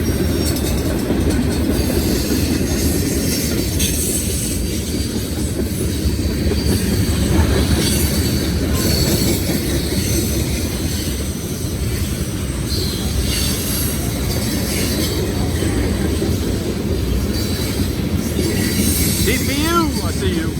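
A freight train with boxcars rolls past at close range, a steady loud rumble of wheels and cars throughout, with wheel squeal rising near the end and a voice speaking briefly over it.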